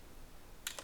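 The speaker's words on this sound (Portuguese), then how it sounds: "Então vou dar um Enter e vamos ver o que acontece agora." Two quick, crisp clicks of the Enter key being pressed on a computer keyboard, close and faint against a quiet room hiss.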